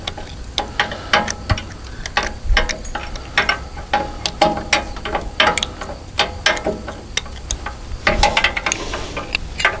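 A ratchet wrench is turned on an engine being pulled, giving repeated bursts of quick clicking with short pauses between strokes, close and clear.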